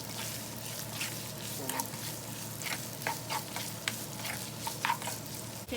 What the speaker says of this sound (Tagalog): Lagyan na natin yung chicken tsaka yung hotdog para medyo maigisa na natin sila.